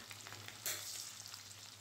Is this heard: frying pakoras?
yes